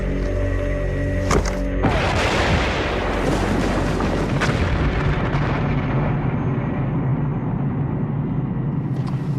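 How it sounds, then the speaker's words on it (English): A Bangalore torpedo detonates in a barbed wire entanglement with a single loud blast, followed by a long rumbling roar of debris and echo that slowly fades, preceded by a brief mechanical hum. "the Bangalore torpedo has blown a channel right through our barbed wire entanglement"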